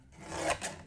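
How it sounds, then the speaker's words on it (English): Paper trimmer blade sliding along a paper card mat to cut it to size, a brief soft rasping swipe under a second, close and fairly quiet, with no talking. "So I'm trimming a little bit off of 2 sides."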